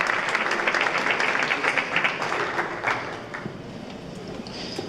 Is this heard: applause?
yes